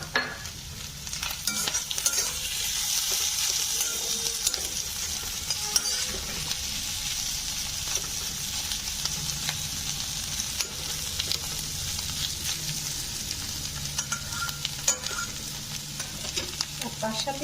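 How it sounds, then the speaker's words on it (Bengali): Potatoes fry with onion and green chillies in a pan, giving a continuous bright sizzle with scraping stirs and crackles throughout. "পেঁয়াজের সাথে আলুটা আমার ভাজা হয়ে গেছে।"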